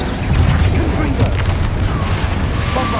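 Confringo blasting spell explosions in Hogwarts Legacy, a sustained loud rumble of booming blasts with scattered crackles and pops, up close throughout.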